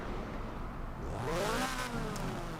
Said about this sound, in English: That's a raspy engine. And it's turbocharged.